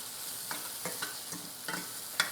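Onions are fried and stirred in a pan, making a soft continuous sizzle with a few light scraping ladle strokes. It is fairly quiet, and no one speaks.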